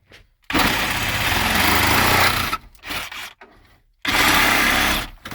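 Loud, close whine of a power tool trimming plastic car dashboard trim during a stereo install, running in two long bursts broken by short pauses and a brief stutter; no speech.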